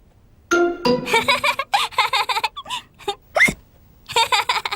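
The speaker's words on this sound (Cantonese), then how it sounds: "令佢而家打思噎啊！" A cartoon piglet hiccups after gulping juice too fast, giving a few sharp hiccup sounds among bursts of childlike laughter and giggling, close and lively.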